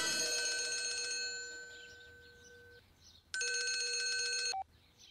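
A telephone rings with an electronic trilling bell, a long ring fading out followed by a second short burst, fairly quiet against a hushed background.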